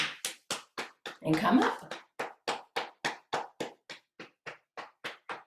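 Rhythmic hand claps and taps struck along the arm and against one's own body during a somatic tapping routine, a steady series of sharp, close claps with a brief spoken phrase in the middle.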